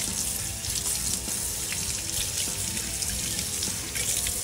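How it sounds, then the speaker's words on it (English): A fillet knife from a Danco set rinsed under a running kitchen tap, steady loud rushing water with faint splashes and clinks throughout. "let me wash it. Yeah, wash it off real quick."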